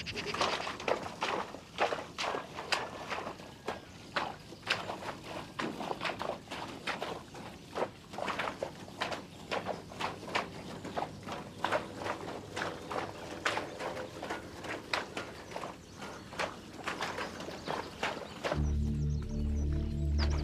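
Horses walk across open wetland meadows in Brière, their hooves thudding in a steady, uneven clip-clop at moderate distance over a quiet outdoor background.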